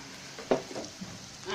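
Chopped green chillies dropped into frying onions, a short burst of sizzle followed by a couple of quick stirring scrapes in the pan.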